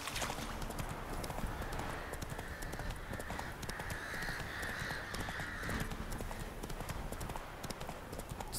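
Hooves of Roach, the horse in The Witcher 3: Hearts of Stone, clip-clop in a steady run across a bog, fairly faint and continuous beneath a wash of ambient game sound.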